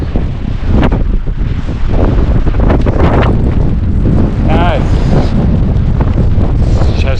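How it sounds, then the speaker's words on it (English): Strong wind roars and buffets the microphone during a nighttime snowstorm with blowing snow in Mississauga, Canada, a loud, continuous gusting with a person talking over it. "It's just so windy."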